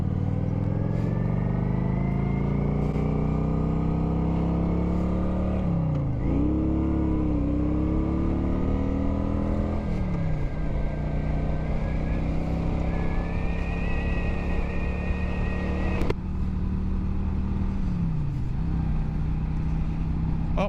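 A Kawasaki Vulcan 900 Classic motorcycle engine drones steadily while riding onto the freeway, the close, loud exhaust rising in pitch through the gears with several dips at shifts over a continuous run.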